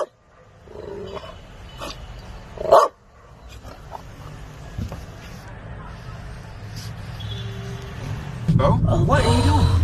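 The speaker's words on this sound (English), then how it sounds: "There's a fucking dog." A dog barks in a short burst and then growls at fairly close range in a home, while people talk and music plays underneath.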